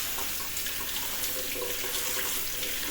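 Konjac noodles rinsed under a running kitchen tap, a steady close rush of water splashing over them in a sink, continuous and fairly loud.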